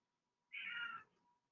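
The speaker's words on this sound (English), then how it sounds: "A very noisy cat is here." A single cat meows once, a short half-second call heard fairly faintly in a quiet indoor room, with no other sounds around it.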